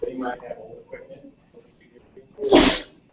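A single sharp sneeze bursts out near the end during an indoor Cub Scout roundtable meeting, loud and close, following quieter conversational speech from people in the room.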